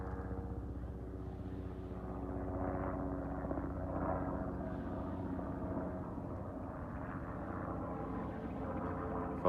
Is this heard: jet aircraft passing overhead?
yes